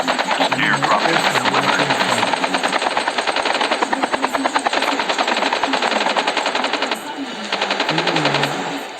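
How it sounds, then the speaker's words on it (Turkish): A helicopter engine in a Call of Duty battle royale match runs loud and steady with rapid rotor chop, joined by bursts of gunfire, while someone talks over it. "Abi birisi helikopteri çalıştırmış"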